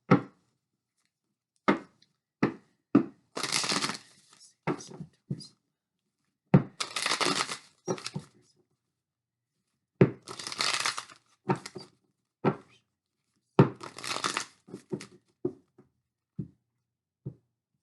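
Advice cards are shuffled in short, irregular bursts of papery riffling and slapping, loud and close, with quiet pauses between handfuls.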